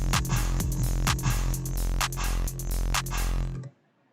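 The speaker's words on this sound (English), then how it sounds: "we automate the volume to drop to 0 and stay at 0 and then go back up." An EDM bass line pulses under rhythmic kick and hat hits, then its automated volume drops to zero near the end, leaving sudden silence.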